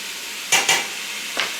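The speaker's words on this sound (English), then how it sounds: "Toss in a little fresh garlic" Fresh minced garlic hitting a hot pan, two quick bright sizzling bursts followed by a third shorter one over a low steady frying hiss.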